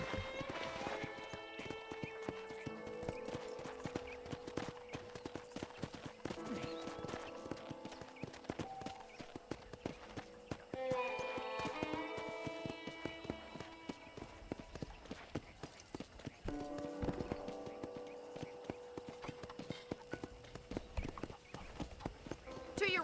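Horse hooves clip-clop steadily at a walking pace on a ranch in the Red Dead Redemption video game, close and continuous, mixed with game background sound and occasional neighs.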